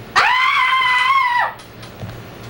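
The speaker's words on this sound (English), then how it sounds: "Please advance the film at the sound of the agonizing scream." A single long, piercing agonizing scream, loud and sustained for over a second before cutting off, used as a film cue in an educational film about the nervous system.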